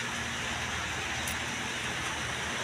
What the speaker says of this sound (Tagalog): Hindi pa rin tumitigil ang ulan.